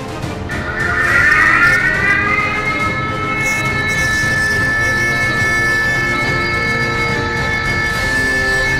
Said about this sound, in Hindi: खतरे के टलने का सायरन इस प्रकार से होगा।